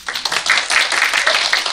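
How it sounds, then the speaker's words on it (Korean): A small audience at a coffee film talk gives a barista speaker short, light, hesitant clapping, close and steady for under two seconds with no talk over it. "되게 소심하게 이렇게 박수 쳐주셔가지고"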